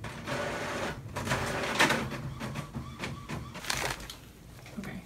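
An Epson printer printing a test page, with mechanical whirring, clattering carriage movements and intermittent sliding strokes that rise and fall in bursts.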